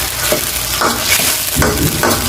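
Ingredients sauté in a hot pan, with a steady sizzle broken by several scraping stirs of the utensil at an uneven rhythm, close and fairly loud.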